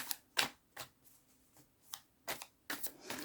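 Tarot cards are shuffled close by in quick, irregular riffling bursts with short pauses between them, crisp papery snaps over a quiet background.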